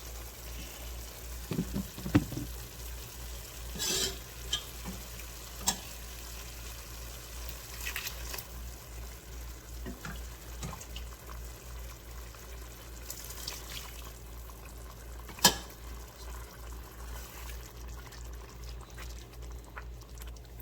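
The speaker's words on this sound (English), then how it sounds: "now we add more liquid" Liquid ladled into a pot of mushroom risotto while it is stirred, giving soft pours and splashes with a few sharper clinks over a low, steady simmering hiss; no talking.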